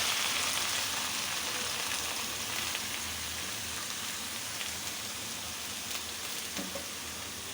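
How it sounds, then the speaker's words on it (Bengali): Mixed vegetables frying in oil in a wok for vegetable khichuri, giving a steady, close, dense sizzle with a rain-like hiss that runs unbroken throughout, with no talking. "সবজিগুলি ভাইজে নিতে হবে।"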